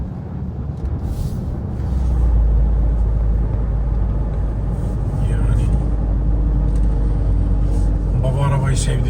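Engine of a 2025 Toyota GR Corolla with its turbocharged 1.6-litre three-cylinder, a steady loud low rumble that swells after the first two seconds and holds under ongoing cabin chatter from several people.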